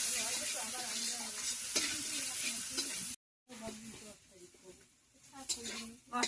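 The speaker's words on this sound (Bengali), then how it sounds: "মশলা ভালো করে ভাজা হয়ে গেছে" Spice paste with turmeric and chilli powder fries and is stirred until the oil separates, for a home-cooked fish curry in the Andaman Islands. A close sizzle with rhythmic stirring scrapes runs under voices and pauses briefly midway.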